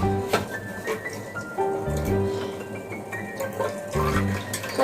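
Chamomile flower juice poured into a batch of melted soap, a steady close liquid trickle and splash with light stirring clinks running throughout, no talking.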